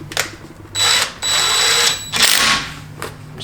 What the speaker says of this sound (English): Now we can go ahead and screw these back in with our